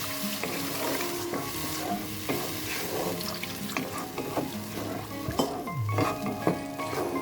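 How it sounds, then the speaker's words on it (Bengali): Water splashes into hot oil and spice paste in a pan while cooking pointed gourd curry, giving a continuous sizzle with stirring clatter and scraping, close and fairly quiet, with no voices. "এবার আমি পরিমাণ মতন জল দিয়ে দেব, অল্প পরিমাণ জল দেব"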